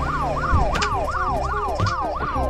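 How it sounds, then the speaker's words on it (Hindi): A police siren in the game Indian Theft Auto wails, sweeping up and down repeatedly in a fast, regular cycle, loud and close, over a low rumbling engine-like background. "पुलिस के सायरन की आवाज भी आ रही है"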